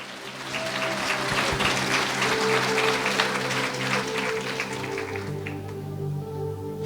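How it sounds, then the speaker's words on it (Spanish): A church congregation applauds during a Christmas sermon, a steady wash of clapping held under sustained organ or keyboard chords that shift pitch near the end. "hay que echar fuerte aplausos a Cristo"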